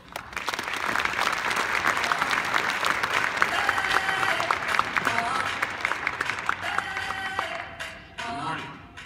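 Sustained audience applause at a film industry presentation welcoming a D-BOX sales executive to the stage, dense steady clapping from a large crowd that fades out near the end.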